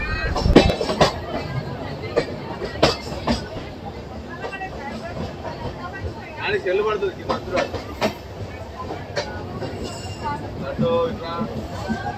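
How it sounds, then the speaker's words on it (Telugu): A passenger train on the Visakhapatnam–Kirandul line creeps across a bridge at about 10 km/h, wheels knocking in uneven clanks over a low rumble, with occasional nearby voices. "ఇప్పుడు మన ట్రైన్ క్రాస్ చేస్తుంది"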